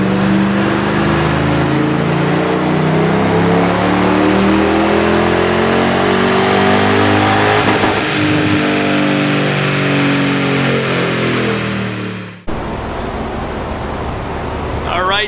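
A high-mileage Mercedes AMG engine revs hard on a dyno, a loud, sustained exhaust roar climbing in pitch for about twelve seconds before cutting off abruptly, followed by a quieter, rougher idle.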